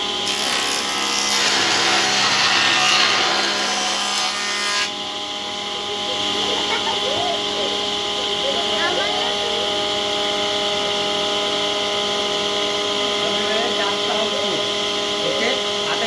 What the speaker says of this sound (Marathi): आता मी तुम्हाला थोडा रंधा मारून दाखवतो